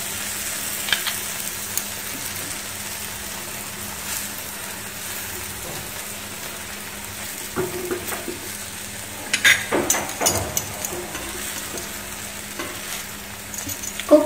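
A kidney bean rajma paratha fries in butter on a pan with a soft, steady sizzle, broken now and then by light scraping and clinks of a utensil against the pan.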